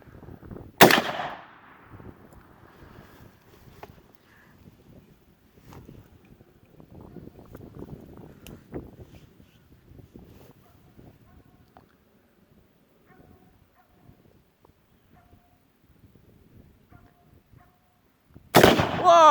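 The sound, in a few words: tannerite exploding inside a pumpkin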